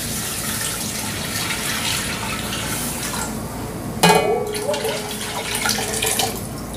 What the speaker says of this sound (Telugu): ఇది వాటర్ వేసేద్దాం